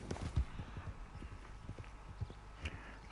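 Horse hooves clip-clop at a steady walking pace in a video game, light repeated clops over a soft ambient bed with no talking.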